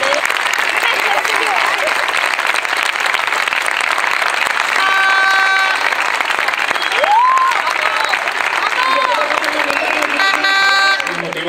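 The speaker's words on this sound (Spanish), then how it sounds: "debemos de darle otro caluroso aplauso" Sustained applause from a crowd at a homecoming reception for a European champion in Petrer, Spain, steady clapping throughout with a few voices and brief whistle-like tones cutting through.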